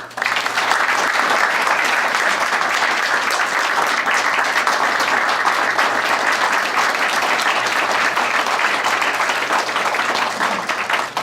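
Sustained applause from a crowd at a sports Hall of Fame luncheon, dense and even clapping filling the room for about eleven seconds without letup.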